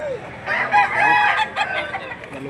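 Chickens clucking and a rooster crowing at the Lipa livestock auction market, busy and noisy, with crowd murmur in the background.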